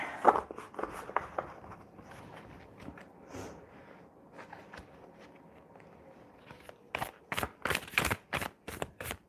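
Tarot cards are shuffled by hand, soft riffling and rustling at first, then a series of sharp, loud card snaps and flicks in quick succession near the end, close to the listener.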